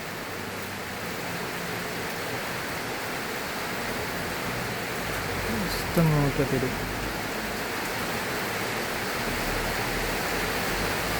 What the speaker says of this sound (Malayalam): ഇപ്പം നല്ല മഴ പെയ്തു ആ സൗണ്ട് കേൾക്കുമ്പോൾ